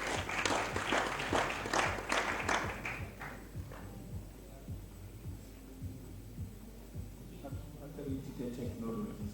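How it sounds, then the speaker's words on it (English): Applause from an audience at a magazine launch event, a dense burst of clapping that fades after a few seconds into scattered claps and room hum, with a voice over a public address system. "Let's give him a round of applause"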